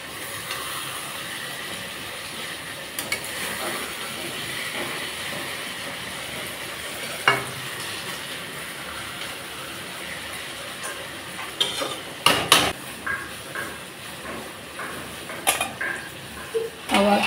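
Fish simmering with vegetables in a pan for macher chorchori is turned over, a steady hiss of cooking under intermittent spatula scrapes and clatters that grow busier toward the end.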